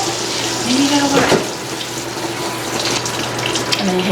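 Water runs steadily from a kitchen tap into a sink, a loud continuous gushing hiss lasting throughout, with a faint thud partway through.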